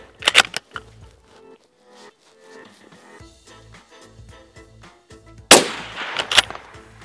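A Sabatti Urban Sniper rifle firing at targets, with a loud sharp crack near the start and two more shots close together near the end. Quieter clicks and handling noises fill the pauses between them.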